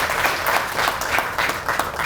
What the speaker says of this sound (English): I just want to give them all a round of applause.